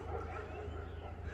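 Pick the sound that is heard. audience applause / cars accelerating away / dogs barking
dogs barking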